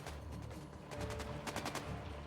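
Shotgun blasts in a video game, several sharp reports in quick succession over a steady background of game ambience, loud and close with a burst of shots clustered near the end.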